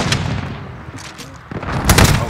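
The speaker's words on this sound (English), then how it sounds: "that's a new sniper, I'm going to try this out." Sniper rifle shots in Call of Duty multiplayer ring out loud and close, a few sharp cracks with echoing tails in a short burst.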